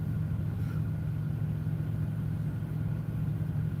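A truck engine idling inside a cave, a steady low rumble that holds close and even the whole time with no voices.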